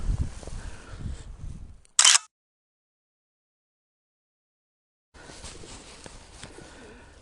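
A camera shutter fires once, sharp and loud, to photograph a freshly caught zander at the waterside, following faint outdoor rustling and preceding a stretch of silence before quiet ambient noise resumes.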